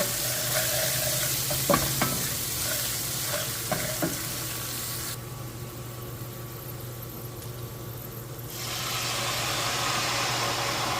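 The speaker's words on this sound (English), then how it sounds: "I'm adding 2 cups of my vodka in with my garlic and my basil." Vodka hits a hot pan of garlic and basil and sizzles loudly and steadily, with a few utensil clinks early on and a brief dip in the hiss midway before it swells again.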